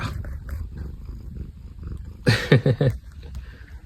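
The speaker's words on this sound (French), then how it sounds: "Le chat." A house cat purrs softly and close in a low rumbling stream, swelling into a few louder rough bursts near the end.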